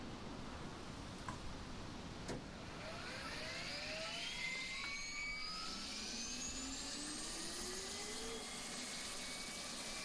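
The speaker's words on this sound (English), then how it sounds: "Hop into this chopper right here and go for a little ride." A helicopter in the survival game DayZ spins up and flies, its turbine whine rising and sweeping upward over a steady engine drone, heard close and continuous, with a few sharp clicks early on.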